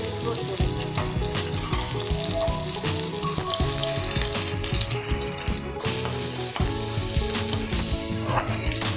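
Garlic and black cumin sizzle loudly in hot frying oil, a close, continuous crackling hiss that barely dips for a moment midway, with no talk.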